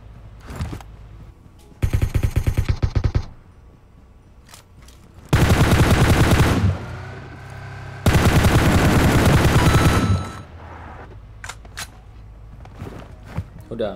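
Bursts of automatic gunfire from PUBG Mobile come in three loud, sustained volleys separated by quieter gaps, with scattered single shots and footsteps, while people talk.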